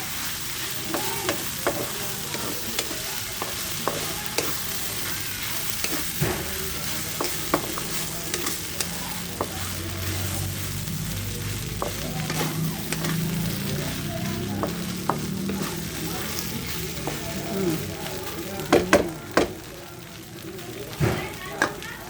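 Tofu frying in a pan as it is cooked, giving a continuous crackling sizzle broken by frequent clicks and scrapes of stirring, moderately loud and close.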